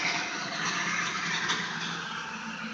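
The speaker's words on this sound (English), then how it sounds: "Somebody was cutting down trees, so that's a diesel truck." A diesel truck working near tree cutting passes by as a steady, broad engine rumble and road roar, continuous and fairly close throughout, with no voices.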